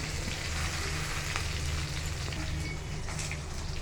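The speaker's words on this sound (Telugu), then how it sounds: "ఇప్పుడు కొద్దిగా వేగినాయి కదా, కొబ్బరి వేద్దాం." Grated coconut sizzling steadily in hot oil in a pan while coconut chutney is made, a continuous crackling fry with small pops throughout, close and fairly loud.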